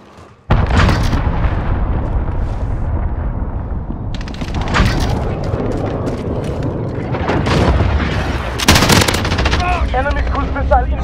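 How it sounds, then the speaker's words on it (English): Gunfire and explosions in a Modern Warfare team deathmatch on Aniyah Palace, with loud heavy booms from a cruise missile strike, rapid bursts of automatic fire and rumbling blasts, sustained and close, with brief radio-style voice callouts. "Enemy cruise missile incoming."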